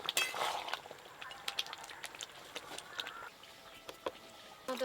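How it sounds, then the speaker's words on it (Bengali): A spoon clinks and scrapes against a pan while sweet pumpkin chakka, a pumpkin and potato curry with sugar and roasted spice, is mixed; sharp metallic taps come in irregular bursts, close and moderately loud, with no talk. "সব কিছু একটু ভালো করে মিশিয়ে নেব।"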